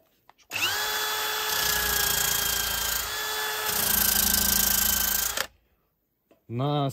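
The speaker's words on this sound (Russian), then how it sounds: "Приобрели мы такую насадку на шуруповерт, чтобы прошкурить лавки, стол" A cordless drill with a sanding attachment sands wooden benches and a table outdoors at a log cabin, a loud steady whine with grinding scrape lasting about five seconds, then stopping before a voice speaks.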